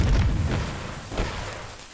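A firework explodes in two heavy, booming bursts about a second apart, loud and close, with a rumbling low-end thump under a hiss of crackle and no voices.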